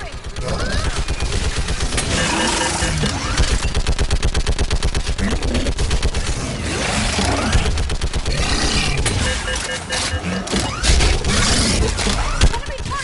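Sustained automatic gunfire in the Mass Effect video game, dense rapid bursts of shots continuing throughout at close range, with voiced combat dialogue over it.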